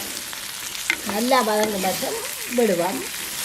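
Curry chillies sautéing in oil make a steady sizzle, and a person talks over it throughout.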